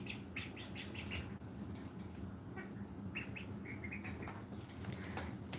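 Young ducklings playing in a water bowl give high, repeated peeping chirps, steady and fairly near over a constant low background hum, with no talking.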